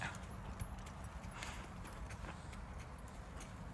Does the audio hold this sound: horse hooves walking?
yes